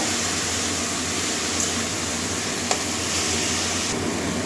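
Red amaranth greens stir-fried with potato and eggplant hiss in a steady, even sizzle, with a faint scrape of stirring near the middle and no voices.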